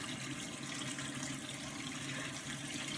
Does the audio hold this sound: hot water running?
yes